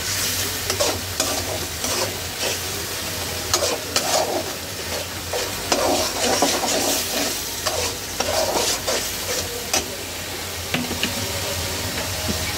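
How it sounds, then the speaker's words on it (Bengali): Spice paste sautéing in a pan, giving a continuous loud sizzle and hiss throughout, with repeated scraping strokes of a spoon stirring it. No one speaks. "এই যে মশলাটা কষানো হচ্ছে"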